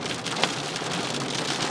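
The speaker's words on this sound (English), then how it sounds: "my car getting badly dented again from the hail." Dense hail pelts a car during a heavy Melbourne storm, a loud continuous rattling roar of ice striking metal and glass, with one sharper impact standing out.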